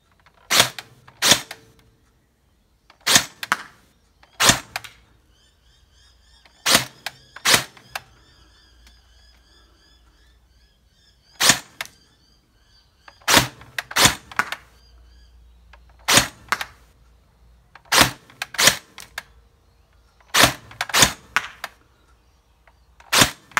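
An STD AK47v2 gel blaster fires semi-auto single shots, sharp loud snaps at close range, mostly in pairs or short bursts of two to three with pauses of a second or more between groups.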